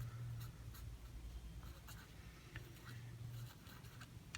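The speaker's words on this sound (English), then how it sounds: "So we write down" Pen scratching on paper while writing by hand, in short quiet strokes with brief pauses between them, close and soft.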